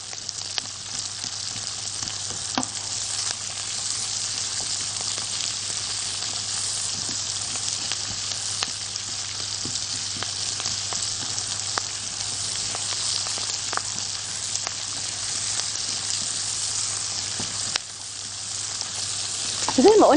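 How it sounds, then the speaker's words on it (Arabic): Chopped onions frying in oil in a pan, a steady dense sizzle running throughout with occasional scrapes and clicks of stirring, close and even, with no talk. "نحاول كده نفك البصل من بعضه عشان يدبل معانا سريع سريع."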